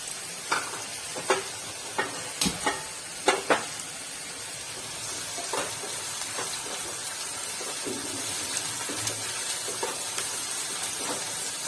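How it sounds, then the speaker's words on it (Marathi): Onion sautéing in a pan for rava upma, a steady soft sizzle with several sharp scraping stirs near the start, then continuing quieter frying noise. "कांदा चांगला परतवून घेऊ आपण"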